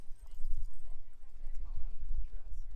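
Horse hooves clop along as a rider comes into the Robinson Flat checkpoint of an endurance ride, irregular thudding steps close by, mixed with low background voices.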